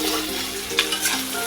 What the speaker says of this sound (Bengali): এই দেখো মাংসটা কষানো হয়ে যাচ্ছে কি সুন্দর